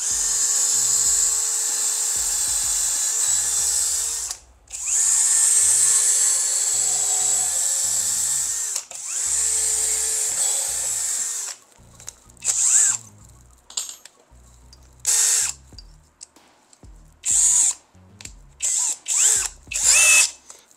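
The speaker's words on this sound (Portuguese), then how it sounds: "Vou furar até o fim da broca aqui nessa tora" A FortG brushless drill-driver bores into a log with a high, whining buzz, first in three long steady runs and then in a string of short, choppy bursts.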